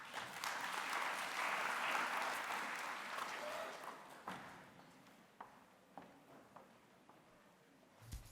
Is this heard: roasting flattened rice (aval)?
no